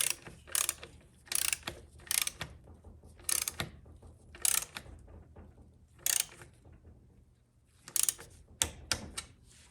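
A ratchet wrench with a 12.8 mm socket tightening a fastener to torque during a Ford C6 transmission rebuild, sounding in short bursts of crisp clicking separated by pauses, close and fairly quiet.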